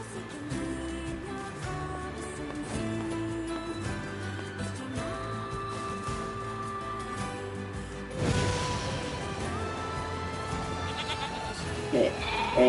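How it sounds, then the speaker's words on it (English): Sheep bleat repeatedly in a video game, mixed into a steady bed of game music and effects, with a louder burst of noise near the end. "Kill some sheep on the way, let's grab their mutton."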